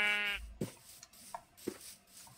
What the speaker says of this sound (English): brown sheep. That's pretty rare.